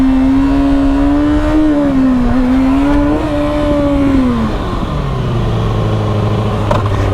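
Motorcycle engine revving hard during a clutch-up wheelie, a loud, continuous near tone climbing and dipping in pitch before settling lower as the throttle eases.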